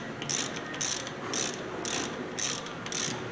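A ratchet tightens a brake line fitting with copper O-rings during a brake and rotor replacement on a 2013 Hyundai Santa Fe, giving about six even, rhythmic clicking strokes, close and clear with no talk.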